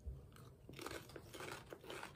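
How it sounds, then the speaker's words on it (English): Walkers cheese and onion crisps are crunched and chewed close to the mouth in rapid, crackling bites, quiet overall but crisp and repeated. "Let's get munching."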